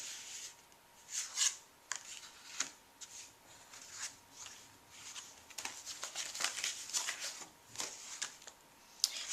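Sheets of 140 pound watercolor paper are handled close up: quiet rustling, rubbing and crisp flicking in irregular bursts, faint and alone with no talk.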